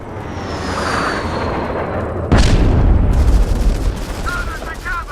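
An airstrike in a video game lands as a sudden loud boom with rumbling blasts and crackling gunfire after a quieter stretch, and a voice can be heard in the game mix.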